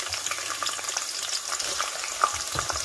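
Onions frying in oil with cloves, black pepper and bay leaves for a large pot of meat curry, a continuous close crackling sizzle with light stirring scrapes and no talking.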